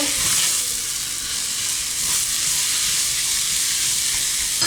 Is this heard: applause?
no